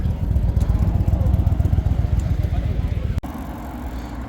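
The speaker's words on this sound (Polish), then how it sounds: "wszyscy na skuterkach, tak" Scooters ridden by groups of young people at night in Chioggia, Italy, make a steady, close, pulsing engine drone that drops away near the end, with voices in the background.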